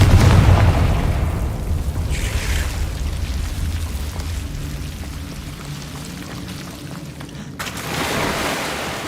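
A Confringo spell explodes in Hogwarts Legacy, a deep booming blast that rolls off into a long rumbling tail, followed a few seconds later by a lighter rushing burst.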